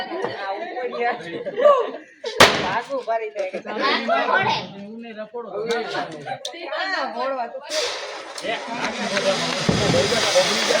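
Diwali firecrackers burst close by during a Gujarati festival celebration: one sharp, loud bang early on, then a sustained hissing crackle later, all under lively chatter and laughter.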